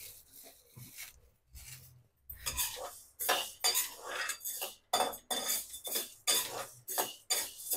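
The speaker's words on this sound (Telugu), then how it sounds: "ఇది కూడా మినప్పప్పు కూడా కందిపప్పులాగే కొంచెం దూరగా వేపించుకొని, ఎక్కువ మాడించుకోకూడదు." A utensil stirs urad dal dry-roasting in a metal pan, giving steady scraping and clinking strokes in a quick regular rhythm, close and moderately loud.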